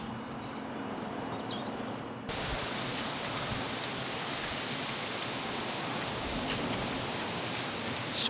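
Forest garden ambience: a steady, dense wash of rustling, rushing outdoor noise with faint bird chirps early on, even and distant throughout, no talking.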